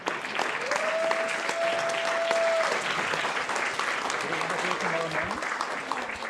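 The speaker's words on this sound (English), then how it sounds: "please a big round of applause to Florian himself, Mr. Florian" Audience applause at an awards and closing ceremony, a steady, dense wash of clapping from a crowd that carries on throughout while a voice speaks over it.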